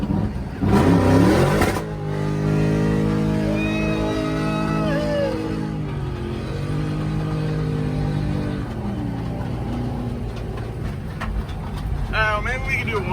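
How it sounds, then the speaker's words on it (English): A Ford Galaxie doing a burnout, its engine revving hard and sustained with pitch rising and falling, loud and close, with voices at times. "I can't do any more burnouts in the Galaxy."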